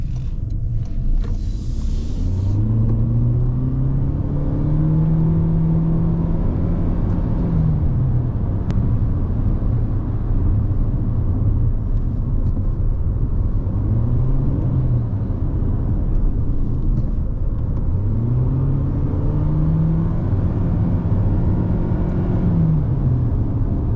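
Toyota Corolla Cross 2.0 hybrid driving along curvy roads, steady tire and road rumble with engine tones rising and falling in several sweeps as it accelerates out of bends, heard from inside the cabin with no talking.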